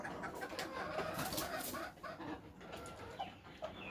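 Hens, including a Brahma and native cross, cluck and call in a backyard flock, a busy layered chatter of several birds at close range.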